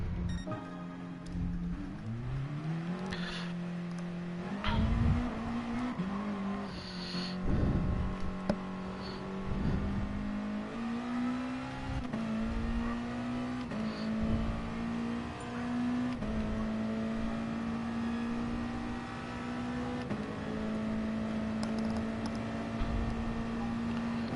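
Engine of a Nissan GT-R race car in Gran Turismo Sport, a steady droning tone that rises and drops through gear changes on a lap, loud and continuous with no talk.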